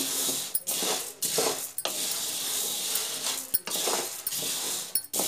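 Whole black gram (urad dal) with husk dry-roasting in a pan on a gas stove, giving a steady close scraping and stirring rattle, with sharper clinks as a utensil strikes the pan again and again.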